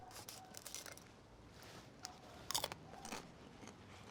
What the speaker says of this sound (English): I heard that crunch. I can already tell you the skin's super amazing.